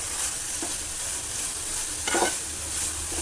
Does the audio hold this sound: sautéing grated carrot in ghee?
yes